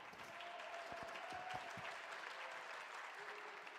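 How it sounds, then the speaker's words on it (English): Crowd applause at a PUBG Mobile esports tournament, a steady broad wash of clapping and cheering that holds for the whole stretch, with a few brief low thumps early on. "The crowd happy with their performance there"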